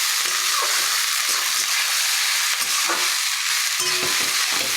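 Fried rice with vegetables, mutton mince, prawns and egg is stir-fried in a pan, a constant loud sizzle with intermittent scraping stirs of a spatula, no voices.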